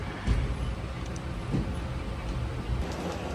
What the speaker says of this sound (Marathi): फायनली अर्ध्या तासानंतर आमची ट्रेन चालू झाली